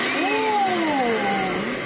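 A Makita cordless battery-powered vacuum cleaner runs steadily, close and loud, with a whining motor tone that wavers slightly in pitch.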